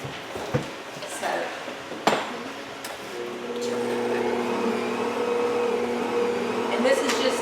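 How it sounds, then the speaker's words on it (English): A stand mixer gently kneads fresh ground wheat bread dough at low speed: a few clanks and knocks, then a steady close motor whir with a faint hum. "this is just gently kneading. You don't need to put your mixer on a high speed."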